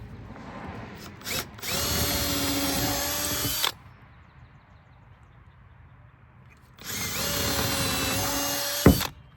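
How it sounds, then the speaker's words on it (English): A power drill whirs in two sustained bursts of a few seconds each, drilling into a timber rack, with a quiet pause between, close by and loud. "So I'll drill these with this drill"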